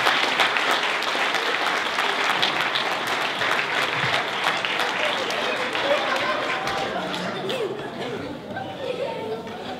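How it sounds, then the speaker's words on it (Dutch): A large crowd applauds loudly and steadily at a junior mayor event in Almelo, Netherlands, with chatter mixed in, the clapping easing slightly toward the end. "Mag daar even een heel hartelijk applaus voor?"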